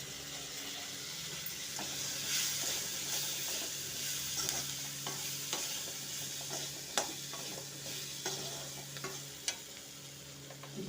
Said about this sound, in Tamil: சுண்டைக்காயை நல்லா வதக்கியாச்சு.